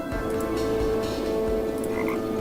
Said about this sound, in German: Frosch Nummer 46.